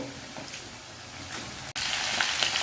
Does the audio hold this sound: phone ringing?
no